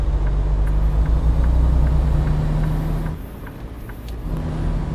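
A heavy truck hauling a road roller in American Truck Simulator drones with a steady low engine rumble, then drops in pitch and level as it downshifts, with no talk over it.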